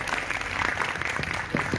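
Participants in a live yoga session applaud a game winner, with a short burst of enthusiastic clapping in a room and voices mixed faintly into it.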